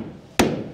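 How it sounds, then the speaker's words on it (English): A single sharp hammer blow drives a wooden joint into a post and beam building frame, ringing briefly after a quiet lead-in. "Hammer that in as much as I can."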